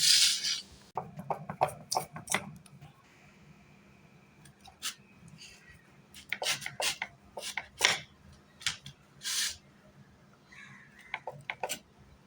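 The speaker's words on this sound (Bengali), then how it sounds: "এবার আমি কেটে নিচ্ছি দেখো কীভাবে আমি আমগুলো কাটবো" A knife cuts raw mangoes in scattered, uneven strokes and scrapes, with irregular bursts of sharp cutting noise and quiet gaps in between.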